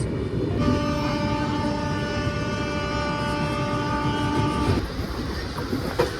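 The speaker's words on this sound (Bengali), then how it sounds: "tata boxer express" A Tata Buxar Express passenger train rolls past with a long, loud, steady horn blast sounding over the rumble of wheels on rails, cutting off sharply near the end.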